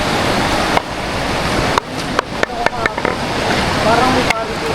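Strong river current rushing at Panorama, British Columbia, a loud, steady broadband roar of flowing water that runs throughout, broken by a few abrupt dips and short clicks.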